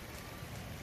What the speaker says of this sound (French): Il pleut, il y a des grêlons.